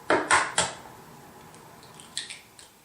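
A whisk strikes a bowl of buttermilk, oil and egg pancake batter for buckwheat pancakes: three sharp clinks close together, a quiet stretch, then two lighter taps near the end.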